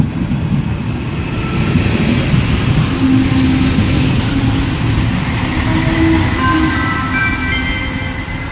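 An Arriva passenger train rumbles steadily close by as it arrives at Roztoky u Prahy station, a continuous low roar with faint squealing tones from the wheels as it rolls in.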